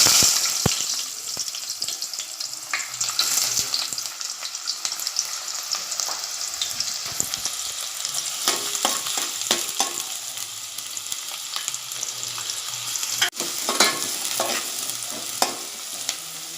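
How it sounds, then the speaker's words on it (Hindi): Chopped onions fry in hot oil in a pot on a gas stove for an egg curry, a steady bright sizzle running throughout with frequent clicks of stirring, close and with no talking. "तेल गरम हो चुका है। अब मैं उसमें कटी हुई प्याज डालूँगी।"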